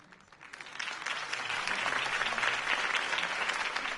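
A crowd applauds a mayoral campaign speech by Harvey Dent in the Telltale Batman video game, clapping building from a softer start into a steady, dense roar of many hands that holds for several seconds.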